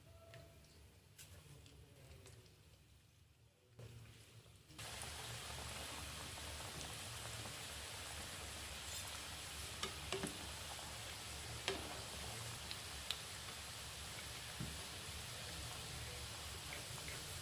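Samosas drop into hot oil over low heat and set off a steady, fizzing sizzle with small crackles and pops that continues evenly after a quieter start.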